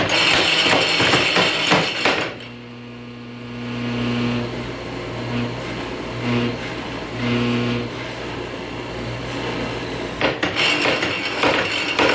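A machine-driven forging hammer drawing out the handle of a demon blade, a steady, loud mechanical pounding drone with rhythmic surges that persists throughout, with a brief dip partway through.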